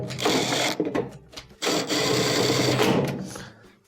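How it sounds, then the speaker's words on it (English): A driver or power tool runs two short bursts, driving quarter-inch screws into the rear of a dryer console, with a brief pause between them. "Let's reinstall the 2 rear 1/4" screws."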